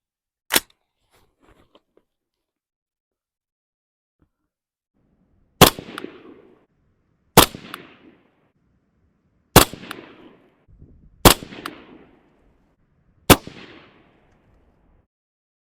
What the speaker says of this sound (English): I'm going to fire at the bottom left circle